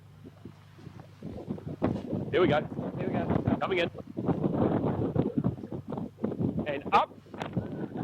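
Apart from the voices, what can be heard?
wind blowing at outdoor rugby ground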